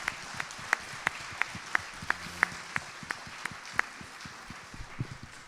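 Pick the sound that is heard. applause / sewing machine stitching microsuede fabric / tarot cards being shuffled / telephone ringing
applause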